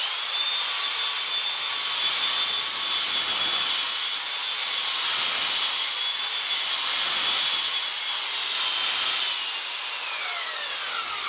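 A rotocork spins at high RPM against a cross-country ski base, giving a steady, bright whirring hiss with a high whine that swells slightly as it is moved back and forth, heard alone and close.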